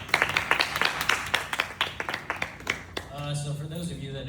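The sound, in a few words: audience applause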